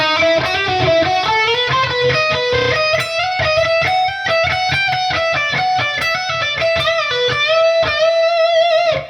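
A slow electric guitar lick with bent notes, played loud and alone in a steady run of picked notes.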